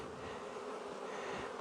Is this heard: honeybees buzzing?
yes